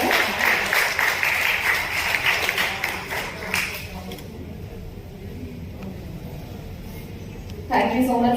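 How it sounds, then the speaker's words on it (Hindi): Applause at a grand honorary doctorate award ceremony, a dense wash of crowd clapping that is loud at first, thins out midway and runs under a voice speaking over a microphone. "एक बार जोरदार तालियां हो।"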